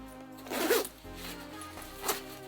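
A YKK zipper is drawn up on a quilted blouson jacket with a short ratcheting zip, followed by a second, briefer rasp a moment later. Both are quiet and close with no voices.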